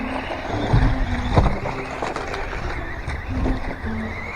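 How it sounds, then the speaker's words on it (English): A Tamiya DF02 RC car runs on a track, its small electric motor whining and surging close by, with bumps and clatters as it moves over the surface. "Car runs real good."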